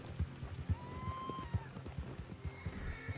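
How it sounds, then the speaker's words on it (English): Hooves of a runaway horse in Red Dead Redemption 2 clop in an uneven galloping rhythm beneath a faint engine-like whine, with a brief high whinny-like tone partway through. "The horse is running away."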